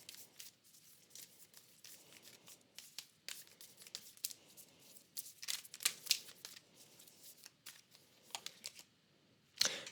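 Tarot cards being shuffled and cut by hand for a reading, a run of soft riffling bursts and flicks that come and go quietly close by with no voices.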